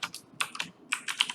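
Fingers type on a computer keyboard at close range in a quick, uneven burst of about eight to ten crisp key clicks, with no voices over them.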